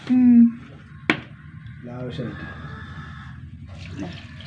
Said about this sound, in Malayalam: വെള്ളം വെള്ളം ഒഴിച്ചു കൊടുക്കുക